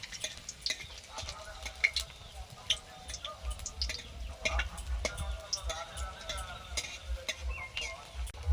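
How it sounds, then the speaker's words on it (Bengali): Dried red chilli and garlic cloves fry in hot mustard oil, a faint soft sizzle with light crackles and pops heard up close. "তেল গরম হয়ে গেছে আমি একটা শুকনো লঙ্কা কয়েকটা রসুন দিয়ে দিলাম"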